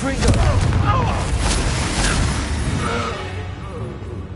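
A Confringo spell explodes in Hogwarts Legacy amid a loud, rumbling battle din with booming blasts and crackling magic effects, while a voice calls out over the noise.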